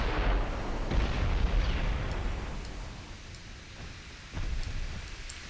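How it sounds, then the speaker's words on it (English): A torpedo launch in a British campaign war video game: a heavy low rumbling whoosh with muffled booms, loud at first, easing off, then a fresh surge near the end. "That did not seem like a safe torpedo launch."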